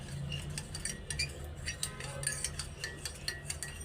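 Breakfast dishes and cups clink and clatter while being washed, with scattered light metallic and ceramic taps over a steady low background hum, close and moderately loud.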